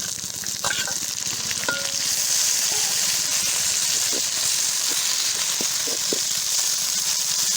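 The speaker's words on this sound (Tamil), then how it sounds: "நாட்டு கருவேப்பிலை வெங்காயம்லாம் நல்லா வதங்கிடுச்சு" Onions and native curry leaves sauté in a pan for country crab rasam, giving a steady, close hiss of frying with scattered clinks and stirring taps, no talk.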